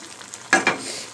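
Hot tempering tipped into a pot of simmering khara pongal gives two quick, close sizzling bursts that fade into a soft hiss.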